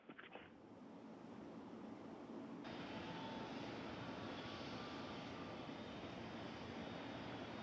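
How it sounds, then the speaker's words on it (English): A Space Shuttle carrier aircraft with the orbiter Endeavour strapped on top approaches for landing at Ellington Field, its jet engine roar swelling and holding loud and steady, with a brief higher whine running over the rumble. "Space Shuttle carrier aircraft with Endeavour strapped atop coming in for its landing at Ellington Field."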